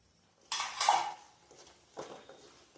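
A spoon scrapes and clatters in a pan while roasted chickpeas are stirred with jaggery, two short bursts of metallic scraping separated by a pause, close and moderately loud.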